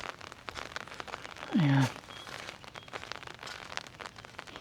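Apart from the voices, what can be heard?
light rain falling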